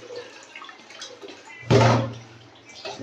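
Neem leaves washed in water, with a soft splash and swish of water in the middle, short and close, surrounded by quieter background sounds.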